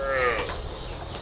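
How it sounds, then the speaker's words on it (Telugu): A buffalo calls out with a drawn low moo inside a dairy farm shed, a single close bellow over the steady hum of the shed, with other animals faintly audible behind it. "ప్రజెంట్ ఇప్పుడు 8 బర్రెలు మా షెడ్లో ఉన్నాయి."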